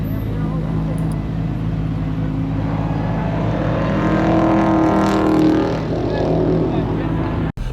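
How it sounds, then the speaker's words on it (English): A midnight blue Ferrari 488 GTB engine drones loudly from inside the car on the Nelson Ledges race track in Ohio, steady and rising slightly mid-clip before cutting off abruptly. "We are in the beautiful midnight blue Ferrari 488 GTB."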